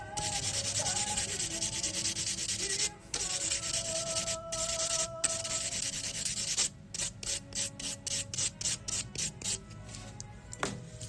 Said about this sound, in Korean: 미경을 한 번 닦고 샌딩 한 번 해줄게요